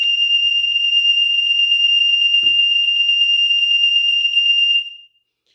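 A fire alarm system sounds a continuous high electronic tone, loud and close, during a system test, then cuts off abruptly near the end and leaves silence.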